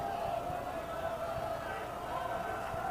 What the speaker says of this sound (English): Crowd starts to get loud.